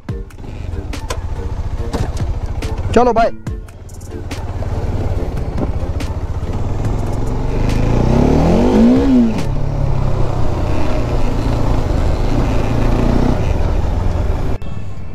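A Bajaj Dominar motorcycle fires up and revs, its engine rising into a strong, steady drone that carries through the second half after a brief start, with voices talking nearby early on.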